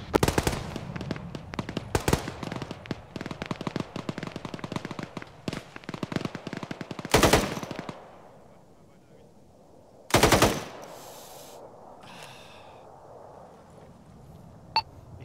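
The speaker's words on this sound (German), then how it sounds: "Ich gebe ihm nur gelegentlich ein bisschen Unterdrückungsfeuer, damit er ein bisschen im Stress bleibt." Suppressive machine gun fire in the military shooter ArmA 3, rapid bursts of automatic shots in quick rhythm, then sparser heavy reports and a quieter stretch with faint tones.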